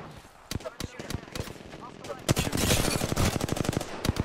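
In an Apex Legends-style shooter, an R301 rifle and an SMG fire close and loud, starting with spaced single shots and building into rapid, continuous bursts of automatic gunfire.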